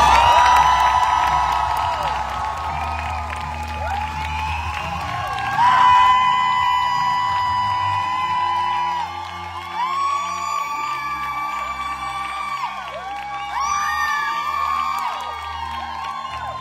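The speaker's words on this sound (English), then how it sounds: "Big applause, give it up for Infant Charlotte!" An audience at a fan meeting in Barcelona claps, whoops and cheers loudly, the applause peaking at the start and swelling again in waves before easing off.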